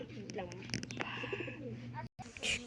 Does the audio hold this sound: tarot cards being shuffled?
no